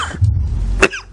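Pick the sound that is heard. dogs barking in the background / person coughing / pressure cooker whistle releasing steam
person coughing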